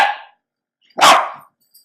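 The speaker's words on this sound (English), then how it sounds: "I have a little mini poodle. and he is barking at an alarm." A miniature poodle gives two loud, sharp barks close by, separated by a short silence, with no voices alongside.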